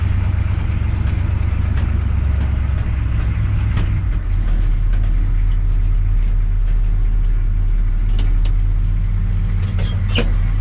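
A pickup truck with a 6.2 engine runs steadily in four-wheel drive with locked lockers, its low, continuous rumble loud and close throughout, with a few faint knocks and clicks on top.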